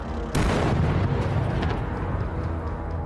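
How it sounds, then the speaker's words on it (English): Heavy artillery shells strike a Russian tank convoy, a sudden loud blast that opens into a sustained, rumbling roar of explosions and debris, dense and low, continuing without a pause. "Artillery attacks immediately hit the convoy"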